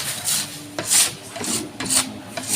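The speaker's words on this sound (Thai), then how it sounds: "ขูดแรงๆเลย อันนี้คือเป็นแป้งบ้าง เป็นน้ำมัน ที่ติดกับแป้งบ้างนะครับ" Dough and oil residue scraped hard off a wooden cutting board used for fried dough sticks and fried buns, several rhythmic rasping strokes close up, loud and repeated about once per half second.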